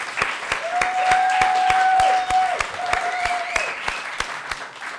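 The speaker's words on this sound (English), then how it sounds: "Can we have a massive round of applause, please, for that?" Live podcast audience in Sunderland applauding, a steady wash of many hands clapping with scattered sharp claps and a brief whistle, loud and sustained before easing slightly toward the end.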